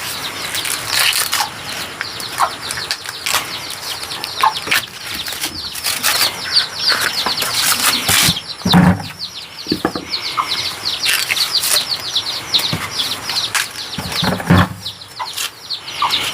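Birds at a rural farm where corn is harvested: repeated flurries of wing flaps mixed with chirps and tweets, with an occasional rooster or farm-animal call, fairly close and continuous with no talking.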